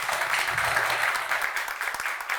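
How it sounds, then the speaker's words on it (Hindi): Steady applause from a crowd, dense and sustained throughout, with no voices standing out. "आप दोनों स्त्री शक्तियों के लिए ज़ोरदार तालियां"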